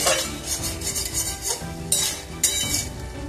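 White potato chochchori cooking in a pan with asafoetida and nigella seeds: a utensil scrapes and stirs against the pan in steady strokes, with a few sharper clinks and no talking.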